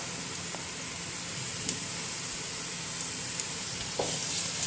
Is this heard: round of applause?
no